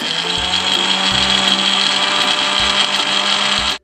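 An electric mixer grinder whirs loudly and steadily, grinding poppy seeds, cashews, whole cumin, green chillies and ginger with water into a paste, then cuts off abruptly at the end.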